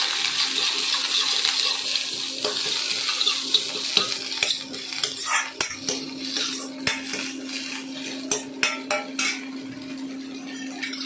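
Washed garden fenugreek leaves go into a hot pan and get stirred, with a soft sizzle early on, then repeated metal scrapes and clinks of a spoon against the pan in an uneven rhythm.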